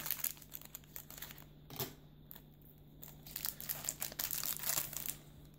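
Crinkly plastic foil wrappers of Adrenalyn XL 2015-16 football trading card packets being torn open and crumpled by hand, soft rustling and crackling in a quiet room.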